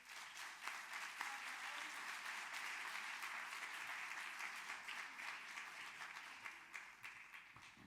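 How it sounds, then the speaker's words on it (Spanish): Auditorium audience applauding at an evening memorial gathering, a dense, steady wash of many hands clapping that holds at an even level for the full eight seconds with no talk over it. "Un aplauso, por favor."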